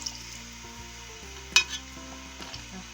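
Peeled almonds frying in oil, a soft steady sizzle with quiet stirring scrapes and one sharper clatter partway through, no voices.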